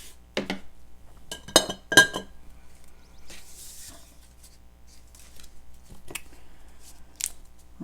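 Scissors snip through a postcard for a junk journal, giving a few crisp, close cuts in short bursts separated by quiet pauses, with no voices.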